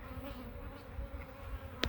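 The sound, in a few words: honeybees buzzing around the hive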